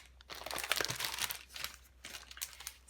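Sheets of Daydreamer paper for a Happy Planner are handled close by, giving soft, irregular crinkles and rustles in quick bursts, quiet with brief pauses between them.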